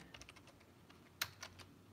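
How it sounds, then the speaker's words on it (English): Quiet typing on a computer keyboard in a drawing studio, a scattering of soft key clicks with one sharper tap, close and faint with no talking. "let me grab something we call a keyboard so that I can look him up on Google Images here"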